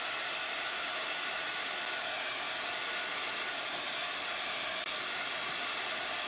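A hair dryer blows steadily on a chalk paste transfer, a continuous close, loud airy whoosh with no breaks from start to finish.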